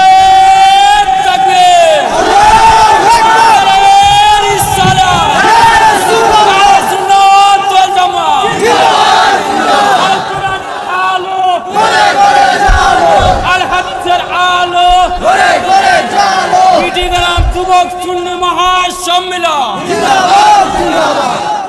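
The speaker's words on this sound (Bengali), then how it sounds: "স্লোগান দিচ্ছেন" A large crowd at an outdoor religious gathering chants slogans in loud unison, answering a leader's amplified calls in repeated rhythmic waves that continue steadily, strong and near.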